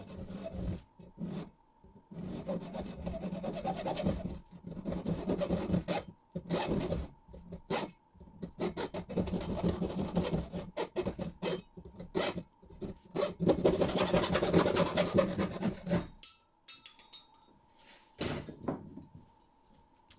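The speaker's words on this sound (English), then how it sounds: "I'm going to use a hacksaw to cut through the metal." A hacksaw cuts through the metal rail of an IKEA Fridans blind in a steady rasping back-and-forth rhythm, close and moderately loud, stroke after stroke with brief pauses, ending in a few quieter strokes.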